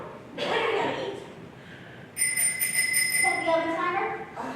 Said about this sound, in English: No, that's the doorbell.